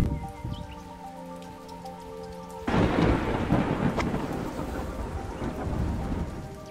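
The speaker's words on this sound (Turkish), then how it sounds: "Çok yağmur yağıyor." Heavy rain pours with a loud thunderclap crashing in partway through, followed by a dense, rolling roar of downpour and rumbling thunder close by.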